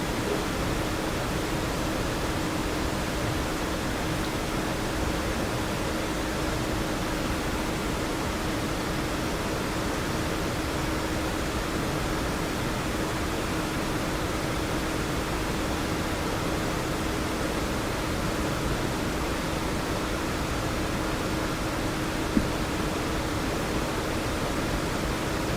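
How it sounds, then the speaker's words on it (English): A stream runs through a small Provence town, a steady, even rush of flowing water that fills the scene without pause, fairly close and unbroken, with no voices. "I just love the sound of the running water that runs through this town"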